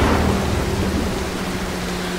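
Rain and rolling thunder from a stormy night in the stealth game Mark of the Ninja, a steady loud wash with a low rumble throughout, no voices.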